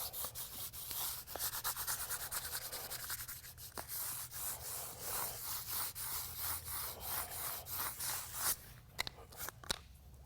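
Continuous soft scraping and rubbing as a trowel burnishes a fresh concrete microtopping overlay, with short repeated strokes, close and fairly quiet.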